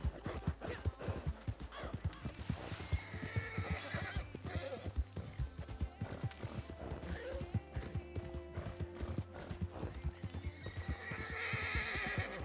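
A horse gallops under a rider in a video game, with rapid, continuous hoofbeats and an occasional whinny, close and busy throughout.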